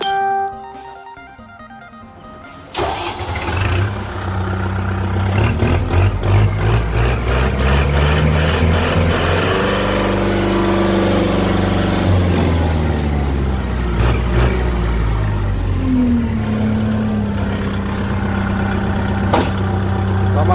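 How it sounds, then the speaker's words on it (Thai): A used Kubota MU4902 tractor's diesel engine cranks and starts, then runs with a steady, loud rumbling idle, its pitch rising and falling as it is revved. "เดี๋ยวลองมาสตาร์ทเครื่องยนต์ดู"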